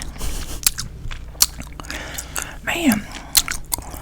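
Wet, smacking gum chewing close to the mic, with moist clicks and squishes repeating irregularly under a soft-spoken voice that talks throughout.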